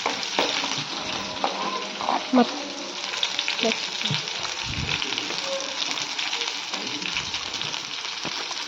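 Tender tamarind leaves are being stirred into chutney frying in a pan on a stove, giving a steady sizzle with scraping stirring strokes throughout at close range.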